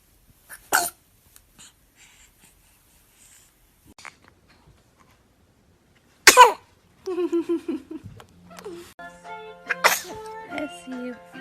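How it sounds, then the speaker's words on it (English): Babies sneeze in separate short bursts, each sharp and close, with quiet breathing in between. Near the end, small vocal squeals and cooing follow. "Oh, cute baby sneeze."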